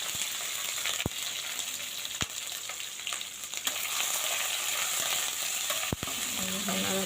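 Whole spices, ginger and chili frying in hot oil, a continuous close sizzle and crackle with sharp spoon-stirring clicks scattered throughout, no talk.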